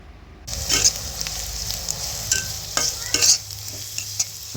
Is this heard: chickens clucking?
no